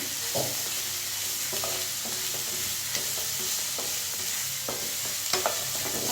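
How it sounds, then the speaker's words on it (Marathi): Chopped onion and bitter gourd frying together in a pan, a steady close sizzle broken by frequent stirring scrapes and light clinks, no talking. "मी आता हे कांद्याबरोबर थोडेसे चपट्या पण फ्राय करून घेणार आहे"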